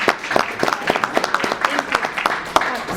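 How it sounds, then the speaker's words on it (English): At a Chaldean Community Foundation town hall on the 2020 census, the audience gives light, scattered applause for Stacy Bahri, with irregular individual claps at moderate distance mixed with soft background chatter. "Guys, give a round of applause to Stacy Bahri."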